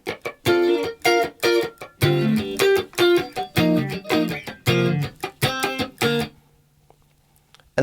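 Guitar strums the third phrase of a song, with choppy rhythmic chords and muted scratches in a funky pattern, close and clear, ending abruptly into quiet.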